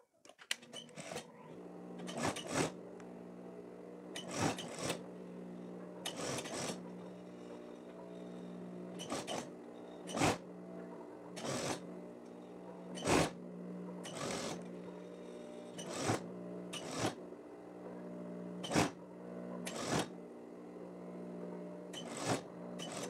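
A domestic sewing machine stitches a hem folded one centimetre over overlock stitches on a women's plaid shirt, running in repeated short bursts of whirring with brief pauses between them.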